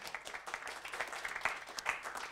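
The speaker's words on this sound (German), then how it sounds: "Ein Applaus." Brief, fairly quiet audience applause at a corporate innovation event in Austria, a steady patter of many hands clapping for a couple of seconds.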